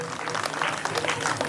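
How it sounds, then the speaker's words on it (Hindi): A short burst of dense audience clapping at a retirement party, steady and close, with a murmur of voices mixed in. "पुनः एक बार तालियां बजा के इनका अभिनंदन स्वागत करें"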